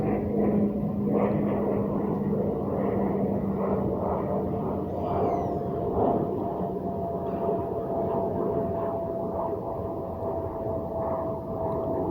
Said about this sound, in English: Here's an airplane flying overhead.